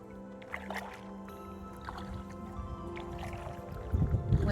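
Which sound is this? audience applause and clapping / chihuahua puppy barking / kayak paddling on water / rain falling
kayak paddling on water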